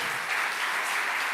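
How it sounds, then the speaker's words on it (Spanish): Church congregation applauding during a worship service, a steady, dense wash of clapping at moderate level with no speech over it. "Un aplauso a la presencia de Él."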